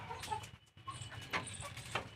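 Gavrani hens on a farm, some of them sick, give scattered soft clucks and brief calls, faint and intermittent against a quiet background.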